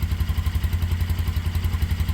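A Kymco Zing 125cc scooter engine idles close by with its choke on, a fast, even pulsing putter, steady and unbroken throughout.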